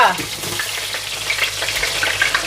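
Steak frying in a hot pan in a home kitchen, a loud steady sizzle with faint crackles throughout, close and without speech.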